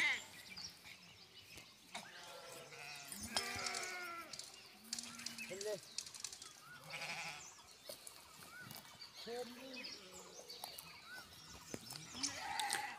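Sheep and goats of a herder's camp bleat in repeated wavering calls from several animals, some near and some farther off, while people talk in the background and birds chirp faintly.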